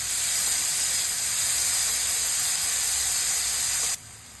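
Onion frying in oil for poha gives a loud, steady hissing sizzle close by that cuts off abruptly near the end.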